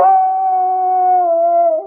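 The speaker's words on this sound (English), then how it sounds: "lifted his head and howled" A dog lifts its head in a long, loud, sustained howl, a single clear wavering tone with overtones that dips slightly at the end, close and alone with no voices.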